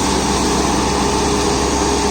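A New Holland Workmaster 106 HP tractor runs at a constant, loud, steady engine drone with no pauses, while powering a mulcher in a banana field.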